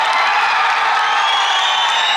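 An audience breaks into sustained applause and whistling, a loud, dense wash of clapping and cheering with shrill whistles running over it, steady throughout.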